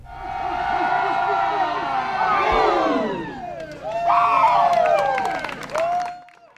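Community crowd cheering bike riders along the route from North Falmouth to Woods Hole, with overlapping shouts, whoops and rising cheers in bursts, close and lively.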